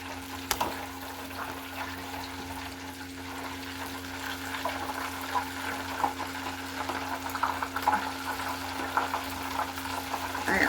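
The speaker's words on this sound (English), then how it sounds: "I got one more that's still frying." Turkey legs fry in hot oil with a steady, close crackling sizzle and occasional louder pops, continuous throughout with no talking.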